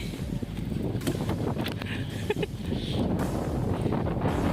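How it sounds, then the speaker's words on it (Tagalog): Steady wind buffeting the microphone in Norway, a broad rushing roar with gusty swells, plus a few faint clicks and rattles in the background. "Mahangin."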